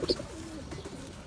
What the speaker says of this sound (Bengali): একটা ফিমেল কবুতর ধরলাম স্টক বাটের